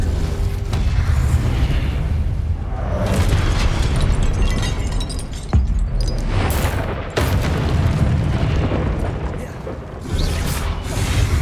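An Incendio fire spell is cast during a fight with a guardian in Hogwarts Legacy, amid loud, continuous booming blasts and fiery bursts with sharp pops.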